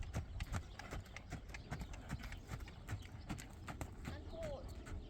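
A horse walking under a rider in a training session, hooves clip-clopping in a steady, moderately close rhythm while an instructor talks over it, plus a faint brief whinny-like sound.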